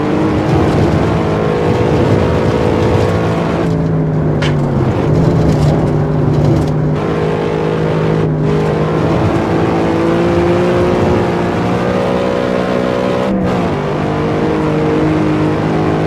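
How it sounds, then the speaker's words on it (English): A modded Cadillac CTS-V with an aftermarket-style exhaust revs loudly and continuously in Assetto Corsa, its engine note rising and falling through throttle blips and gear changes, close and steady throughout. "you could make your CTS V sound very similar to this"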